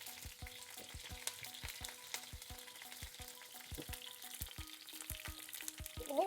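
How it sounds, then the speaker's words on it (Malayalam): Mustard seeds, curry leaves and chopped green chilies fry in hot oil for a Kerala-style kale stir fry, with sharp scattered pops and crackles of bursting seeds over a soft, steady sizzle, close but fairly quiet. "കടുക് പൊട്ടി വന്നിട്ടുണ്ട്."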